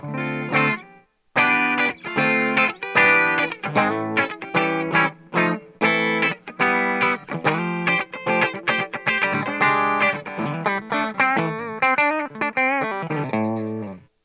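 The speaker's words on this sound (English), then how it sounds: "just to give you the idea of the sound of the single coils, I'll play some." Electric guitar with single-coil pickups played through a clean tone: a series of strummed chords and picked notes with short pauses, ringing and bright, no voices.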